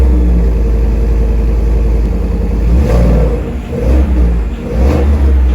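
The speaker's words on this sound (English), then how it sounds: "Actually, I'm going to start it. I know we're inside, but the sound of this thing sounds great." A 5-liter V8 engine in a 2025 Ford F-150 Lobo pickup rumbles loudly and close by indoors, idling with a deep steady throb, then revving up a couple of times.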